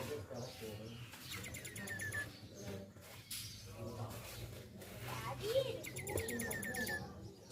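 A captive hill myna gives repeated chirping, whistled calls in short bursts, close by, over a steady low hum and a murmur of voices in the background.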